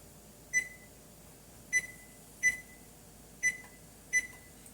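Five short electronic beeps from a kitchen oven being set to preheat to 300 degrees, evenly spaced and fairly clear over a quiet room hum, with no talking.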